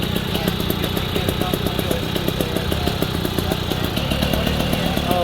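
A Fend Flitzer microcar's small engine runs steadily nearby with a fast, buzzy, clattering rhythm at a constant loud level and no change in pace.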